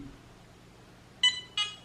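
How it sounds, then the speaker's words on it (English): Two short electronic beeps from a device, bright tonal bursts close together near the end after a quiet stretch, fairly clear with no speech. "Like when it's like beep beep beep beep."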